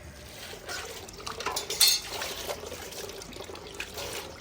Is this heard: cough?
no